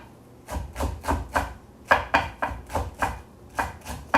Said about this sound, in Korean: 여기에다 늘 파를 좀 썰어서 넣겠습니다